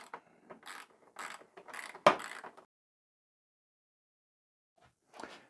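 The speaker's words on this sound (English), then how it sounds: "it's a small ratchet system, 10mm" Small 10mm ratchet turning long bolts on a 1998-2002 Kawasaki ZX6R motorcycle, a close series of quick clicking bursts with one sharper knock, then a long silence and a brief final burst.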